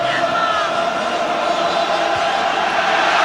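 A jam-packed Celtic Park holds a 67,000 all-ticket football crowd for a European Cup night, a dense, loud, steady roar of many voices with no break, noise filling the whole stadium.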